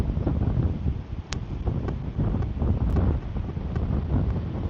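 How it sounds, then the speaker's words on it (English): Wind blows steadily at a local pond, a broad rumbling buffet against the microphone that stays loud throughout with gusty swells. "this wind is gonna die down or just keep getting worse."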